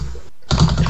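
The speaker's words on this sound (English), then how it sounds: "We can hear you typing." Loud clattering of computer keyboard keys, struck very close to a microphone, comes in two short bursts split by a brief gap.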